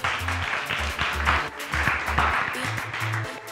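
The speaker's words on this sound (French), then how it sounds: "On applaudit s'il vous plaît la rubrique civisme" Applause from an audience at a quiz competition, a dense steady round of clapping with low thumping music or beats running underneath.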